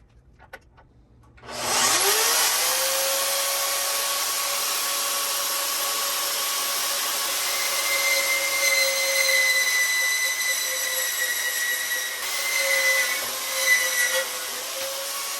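A Hercules universal bench-top band saw starts up and cuts, giving a loud sustained whine with a steady tonal hum that holds for over ten seconds and swells slightly near the end as the cut finishes.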